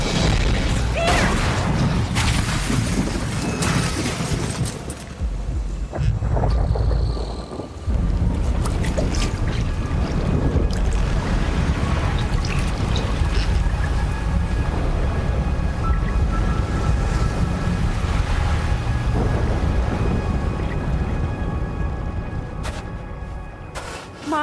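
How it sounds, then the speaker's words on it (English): A boat churns steadily through water with a constant rushing roar and wind buffeting, loud and continuous throughout. "Peter, nobody's driving the boat."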